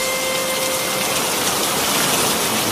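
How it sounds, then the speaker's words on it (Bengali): Heavy rain in a cartoon, a loud dense wash of gushing hiss that holds steady throughout, with no clear thunder clap. "ওই দেখো আবার মেঘ ডাকছে। এ বৃষ্টি থামার মতন বৃষ্টি নয়।"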